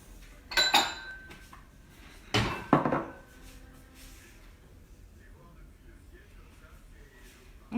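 A plate and dishes handled in a kitchen while cooking chicken and coriander bricks, two brief clattering knocks of crockery close by, then quiet room tone.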